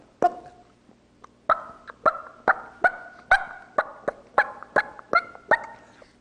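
A hunter imitates wild turkey putts with a mouth diaphragm call, producing a series of about a dozen sharp, clipped notes at an irregular rhythm, loud and close against a quiet background.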